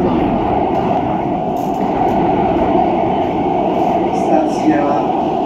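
A Siemens Inspiro train on Warsaw Metro Line M2 rumbles continuously at speed, a loud, dense roar with faint clatter over the rails.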